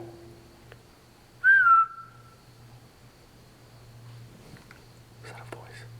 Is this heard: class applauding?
no